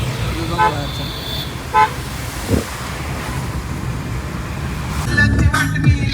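Car horns honk in short bursts amid steady traffic rumble on a jammed road in a mountain pass, with a cluster of louder, overlapping toots near the end.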